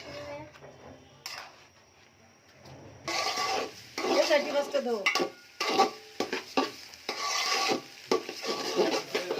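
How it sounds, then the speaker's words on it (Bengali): Polao rice is fried and stirred in a pan, with a quiet start and then repeated scraping, rustling strokes and light sizzling that come in uneven bursts, while a voice speaks over part of it. "এখন পোলাওটা ভেজে নিচ্ছি"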